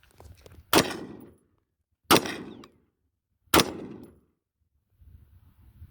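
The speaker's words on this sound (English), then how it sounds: "when I'm shooting the rifle, I'm always conserving my breath every shot" Rifle fired at a desert shooting range, three loud sharp shots spaced evenly about 1.4 seconds apart, each with a short ringing decay, then quiet faint rustling.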